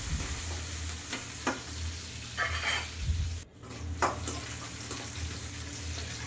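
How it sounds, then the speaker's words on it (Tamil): Small onions with curry leaves sauté in a pan, giving a steady sizzle and frying hiss with a few soft stirring scrapes, close and continuous with no talk. "வெங்காயம் நல்லா வதங்கி வரட்டும்"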